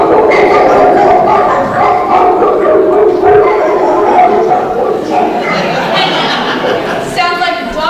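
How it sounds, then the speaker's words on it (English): A dog barks and yips loudly and repeatedly at close range during a spring stage show, with voices chattering around it. "Sounds like the dog's having a good time."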